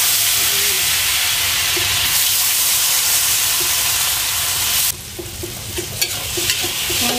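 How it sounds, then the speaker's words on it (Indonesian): Tofu frying in oil left over from frying eggs, a steady loud sizzle and hiss throughout, with faint clinks of a utensil toward the end. "bekas goreng telur minyaknya saya buat goreng tahu"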